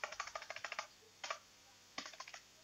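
Typing on a computer keyboard: three bursts of rapid, crisp key clicks, close and quiet, with short pauses between the bursts and no speech.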